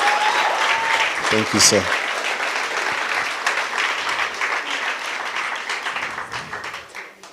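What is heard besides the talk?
audience applause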